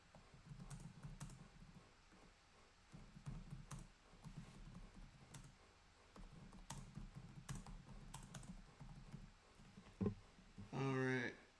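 Keys clatter on a computer keyboard in short bursts of quick typing, fairly quiet and close, with a soft background hum and a brief voice near the end.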